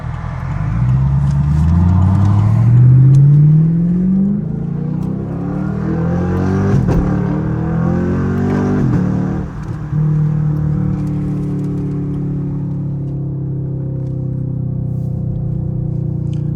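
A Chevrolet Camaro SS engine revs loudly and close up, rising and falling through several throttle blips before settling into a deep steady idle.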